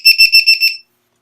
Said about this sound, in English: And then you're going to hear a beep